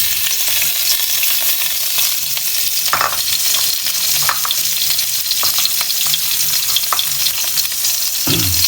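Onions frying for ginisang upo hiss in a steady loud sizzle throughout, punctuated by occasional scraping stir strokes and light knocks of a utensil against the pan, with no speech.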